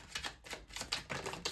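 Tarot cards being shuffled by hand, a quick run of crisp, papery riffling snaps in an uneven rhythm, close up and with no talking.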